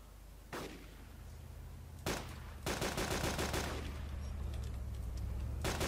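Gunfire in the online survival game DayZ Epoch: single sharp shots ring out, followed by a rapid burst of repeated rounds and another lone shot, all fairly loud over a low ambient hum, with no voices.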